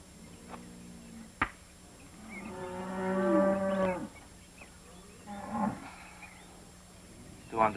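Cattle moo several times at close range, long drawn-out lowing calls that rise and fall, with brief knocks and quiet pauses between them and no talk.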